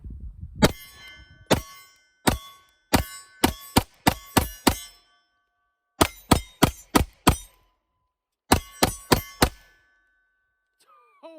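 Sharp, loud pistol shots from an all-steel, single-action CZ Shadow 2 9mm with a 5-inch barrel, fired in three quick strings of about six, six and four rounds with brief pauses between, followed by a few faint voice sounds.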